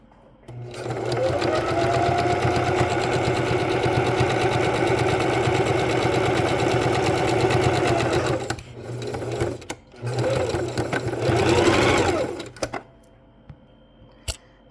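A sewing machine stitching fabric for an eyeglass case runs in a steady, rapid whir for several seconds, pauses briefly, then runs again in shorter bursts before stopping.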